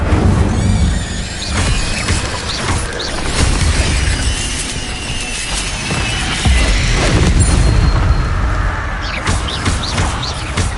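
An Incendio fire spell is cast amid a Hogwarts Legacy battle: a loud, dense wash of whooshing blasts, booms, squeals and crashing impacts runs continuously with no pause.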